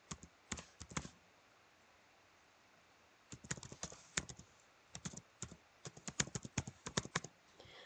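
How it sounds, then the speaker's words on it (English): Someone types an email address on a computer keyboard in a quiet room: a quick cluster of close, crisp key taps, a short pause, then a longer irregular run of clicking keystrokes. "So I have typed in my email."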